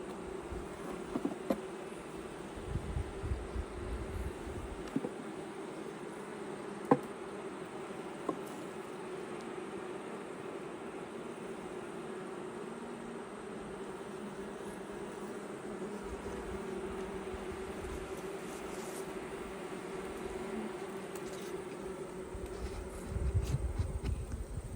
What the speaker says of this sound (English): That's what a queenless hive sounds like